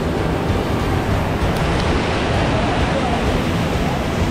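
Water rushes steadily across a stream crossing on the trail to Kalu Waterfall in Maharashtra, a continuous broadband roar with no pauses throughout.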